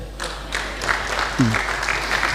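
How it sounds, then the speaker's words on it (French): Applause from a congregation during a church worship service, a steady wash of many hands clapping that fills the space, with a voice speaking briefly over it. "Applaudissons pour lui."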